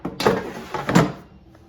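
Air fryer basket sliding into an air fryer after being loaded with cubed Lita squash: two close thumping clunks about a second apart, then a faint settling.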